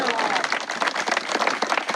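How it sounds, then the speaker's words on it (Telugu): A crowd claps in dense, steady applause at a school book and pen distribution event during the Kondagattu hill circumambulation, with a voice speaking over it. "గట్టిగా చప్పట్లు కొట్టు."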